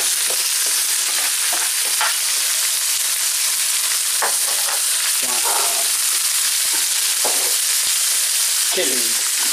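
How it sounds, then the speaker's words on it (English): Ginger and garlic fry in hot oil with a loud, steady sizzle and crackle. A utensil stirs and scrapes the pan now and then. "It will start splitting because I put the ginger and the garlic in there."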